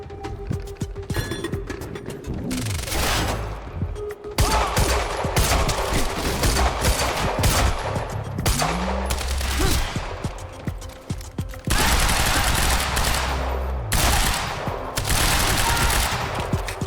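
Bursts of loud machine gun fire crackle in Quantum Break, long rattling volleys broken by short pauses and mechanical clatter, close and harsh throughout.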